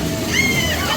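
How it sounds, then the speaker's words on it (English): Water splashes and sloshes at a theme-park splash pad, a brief, continuous wash of watery noise heard up close with a voice speaking over it. "There's just a little splash pad over there."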